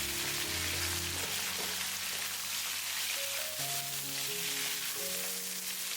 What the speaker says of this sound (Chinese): 把准备好的瘦肉直接倒在锅里，快速翻炒均匀